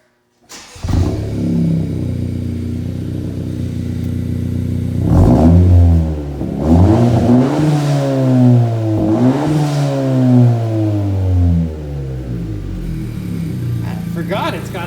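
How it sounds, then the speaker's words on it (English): A 2020 Honda Civic Si turbo six-speed fitted with an MA Performance exhaust starts up and revs repeatedly, loud and close, with rising and falling engine swells throughout and voices talking over it. "Let's fire it up and hear that new exhaust"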